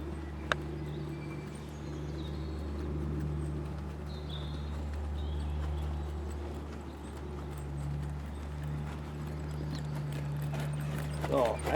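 Horse at a calm, quiet tempo in a riding clinic arena, its hoof clip-clops soft and steady under a continuous low hum, with a few faint distant voices.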